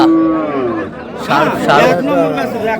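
A cow with a calf moos loudly and close by at the Ambari cattle market in Dinajpur, a long low call, while people chatter around it.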